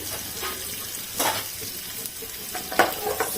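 Finely chopped small onions fry in hot oil with cumin, mustard seeds and turmeric for a prawn curry, a moderate crackling sizzle punctuated by a few sharp spatula scrapes and stirs.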